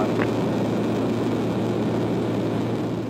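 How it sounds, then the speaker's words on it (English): A steady, continuous low jet engine roar from an F-16 fighter jet intercepting an aircraft, a broad even rumble with no pauses and no talking. "This is how getting intercepted by an F-16 looks."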